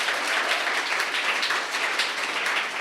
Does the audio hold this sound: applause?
yes